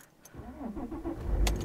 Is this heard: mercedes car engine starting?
yes